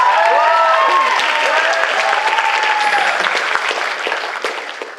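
An audience at the RahCon 2015 cosplay competition claps loudly and steadily for a contestant dressed as Greg, with a few whoops and cheers mixed in, the applause fading slightly at the end.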